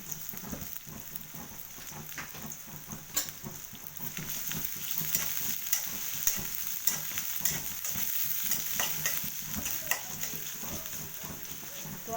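Whole garlic cloves, onion and plenty of green chillies fry in a pan with a steady, crackling sizzle, punctuated by frequent scraping stirs from a spatula. A voice talks intermittently over the frying.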